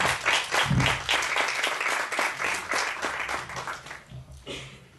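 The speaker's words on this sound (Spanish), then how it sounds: "Por lo tanto, también un fuerte aplauso para Arpita Singha." An audience at an International Women's Day round-table event applauds, giving a full, steady burst of clapping that holds for several seconds, then thins and fades toward the end.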